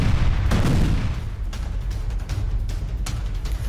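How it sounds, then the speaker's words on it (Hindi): A Russian FAB-500 aerial bomb strikes in Kherson: a heavy, rumbling blast surges early, then a rolling low roar carries on with scattered sharp cracks. "जिसमें यूक्रेनी सेंटर को एरियल बॉम्ब से तबाह कर दिया गया। और ये हमला हुआ फैब"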